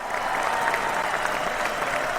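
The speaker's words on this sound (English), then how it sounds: "we always give them an astounding round of applause" Steady applause from an audience at a hockey event, dense even clapping filling the space at moderate loudness for a couple of seconds with no talk.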